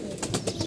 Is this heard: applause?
no